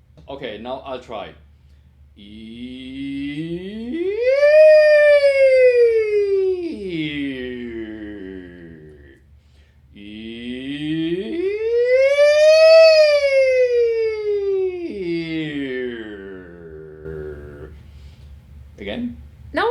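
A singer imitates a police siren with the voice, gliding up to a high note and back down twice in slow, smooth arcs during a vocal range exercise, close and clear.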